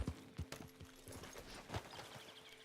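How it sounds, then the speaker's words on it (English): Horses clip-clop faintly and irregularly in a video game, a few soft hoof strikes scattered through a low, muffled background. "Are those horses? Damn, those are horses."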